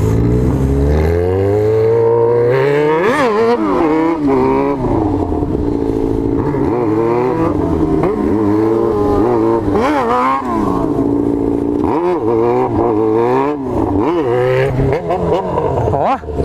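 Two Yamaha XJ6 motorcycles with four exhausts rev hard at a street gathering, their engines rising and falling through repeated sharp throttle blips and wails, loud and close, with voices underneath.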